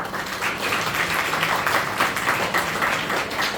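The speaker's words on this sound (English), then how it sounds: "Please give them a big round of applause" An audience at a school media conclave applauds students called up on stage for felicitation, a moderately loud, even patter of many hands heard from some distance.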